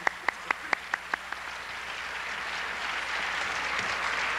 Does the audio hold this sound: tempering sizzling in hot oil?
no